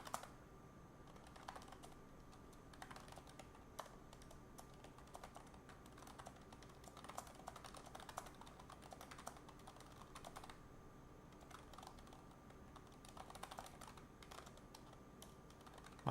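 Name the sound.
typing on a computer keyboard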